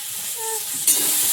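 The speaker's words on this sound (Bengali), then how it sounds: "আলু আর ঢেঁড়স ভাজা হচ্ছে।" Potatoes and okra fry in mustard oil in a wok, giving a steady close sizzle and hiss that jumps louder and brighter partway through as the pan is stirred.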